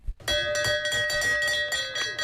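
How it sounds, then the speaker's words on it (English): Bell rung repeatedly at a running race to mark a personal best, a bright ringing bell struck in a quick uneven series of clangs with lingering overtones, close and loud. "We've got a little bit of audio here with the PB ringing the bell."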